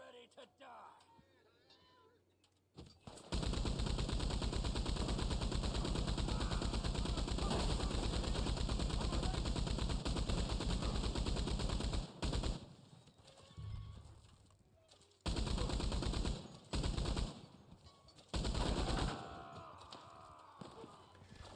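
A mounted machine gun fires in Red Dead Online, long dense sustained bursts of rapid gunfire with horse hooves and whinnies in the mix, cutting out briefly between bursts, with a voice talking over it.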